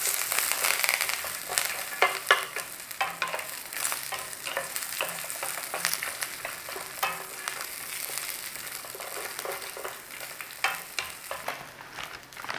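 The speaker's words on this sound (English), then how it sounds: "we're in there with some curry leaves and some green chilli. Nice little stir on." Curry leaves and green chilli fry in a pan with a continuous bright sizzle and crackle, stirred occasionally with scraping sounds, close and steady throughout.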